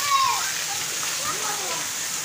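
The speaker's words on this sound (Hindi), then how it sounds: "ये मुल्तान में बहुत तेज़ बारिश आ रही है" Dense, steady hiss of heavy stormy rain in Multan pours down continuously, close and loud, with no pauses.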